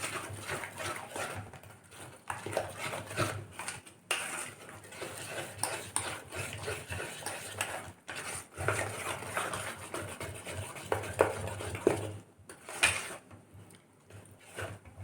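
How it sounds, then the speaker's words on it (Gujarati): Dhokla batter being stirred in a bowl, a close, steady run of soft scraping and sloshing strokes with small knocks of the spoon, carrying on throughout with brief pauses. "હવે એને સરસ હલાવી લઈશું."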